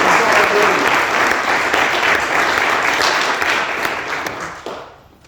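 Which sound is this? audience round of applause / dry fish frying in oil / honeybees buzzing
audience round of applause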